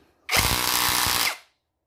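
Tanzu cordless drill driving a wood screw, a single close, loud burst of motor whine lasting about a second, starting abruptly and spinning down at the end.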